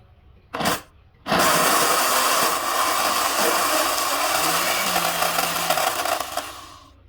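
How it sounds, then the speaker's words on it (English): Electric blender blending fresh pepper and onions for a local sauce, a loud steady whirring motor that starts after a brief burst, runs for several seconds alone and winds down at the end. "So guys, let's blend our pepper."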